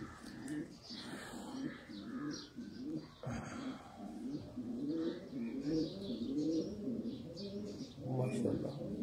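Sialkoti pigeons coo in soft, repeated low burbling phrases, with light chirps mixed in. Someone talks over the birds throughout.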